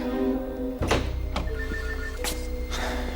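An office telephone rings with a few clear, bright electronic trills close at hand, cut by a soft thunk and alone with no talk over them.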